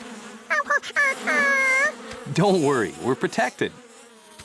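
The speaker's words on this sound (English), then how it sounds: "you ever wonder why bees like to crawl inside colorful flowers?" Bees buzz around colorful flowers in a cartoon, a sequence of loud, close buzzing tones that swoop and bend in pitch, with a short spoken line heard alongside them.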